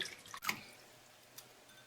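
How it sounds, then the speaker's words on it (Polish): Water splashes and drips softly as cherries are washed by hand, with one brief splash followed by a single small drip in an otherwise quiet setting. "Czereśnie dokładnie myję i usuwam ogonki."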